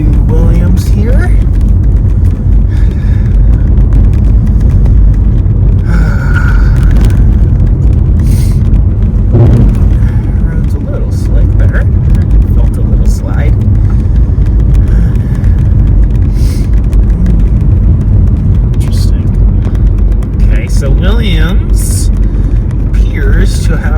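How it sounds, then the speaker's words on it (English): A car rolls down a road into Williams after leaving snowy mountains, a loud, steady low rumble from inside the cabin continuing throughout while people talk over it. "we're driving down into Williams here"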